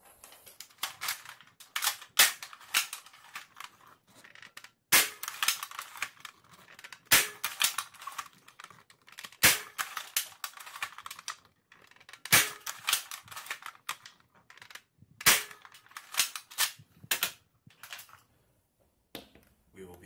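Nerf Longshot blaster fitted with a Jet Blaster kit fires waffle darts in a series of sharp, loud cracks spaced a second or two apart, with handling clicks and rattles between shots.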